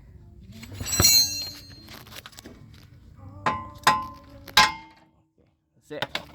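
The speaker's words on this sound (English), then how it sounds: "just bang hammer on this side." A hammer bangs on a Chevrolet Trax tie rod end, several sharp metallic strikes spaced a second or so apart, loud and close, with a brief double knock at the end.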